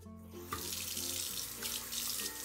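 Water running from a sink tap while washing up in a Barbie and Ken doll play scene, a continuous close rushing stream that holds steady for a few seconds with no voices.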